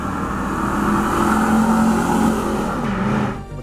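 A 1998 Pontiac Firebird Trans Am WS6 V8 engine droning steadily at mid pitch, swelling slightly before cutting off abruptly near the end, heard alone and fairly loud.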